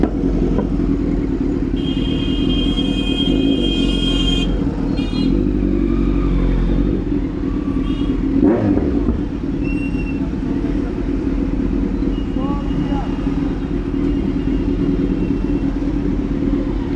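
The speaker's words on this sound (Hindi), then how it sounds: "और ट्रैफिक बहुत ज़्यादा है।" Busy road traffic while riding a Kawasaki Z900 motorcycle in hot weather, with a steady loud engine rumble and surrounding vehicle noise continuing throughout, a brief clatter around the middle and occasional horn-like tones from nearby traffic.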